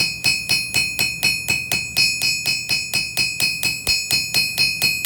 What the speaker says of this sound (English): the round part of the ball peen hammer will make these small round depressions in the metal